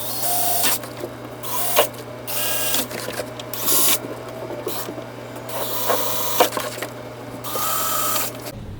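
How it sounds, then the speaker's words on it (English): A power drill fitted with a 5/64 bit drills a row of holes for step cushion snaps, several short whirring bursts separated by brief pauses, close and fairly loud without speech. "We're going to go ahead and drill each spot that we've marked. We've got a 5/64 drill bit."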